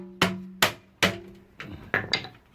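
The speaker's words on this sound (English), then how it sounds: "Let's just whack this with a hammer" Hammer whacking a pewter ball to make it fit a crucible: three sharp metallic blows in a row, followed by several lighter, duller taps.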